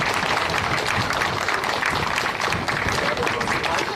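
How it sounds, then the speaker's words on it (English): Crowd applause for a middle school orchestra at an outdoor street renaming ceremony, a steady loud wash of clapping with crowd noise mixed in throughout. "Let's give them another big round of applause"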